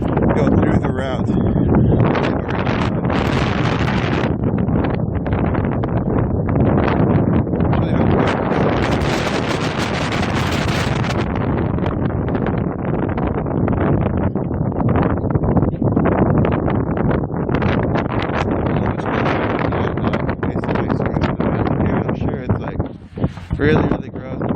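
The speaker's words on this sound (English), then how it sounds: "Really gross and windy." Strong gusty wind roars steadily into the microphone at an outdoor protest march at Standing Rock, loud and unbroken for the whole stretch with no clear voices.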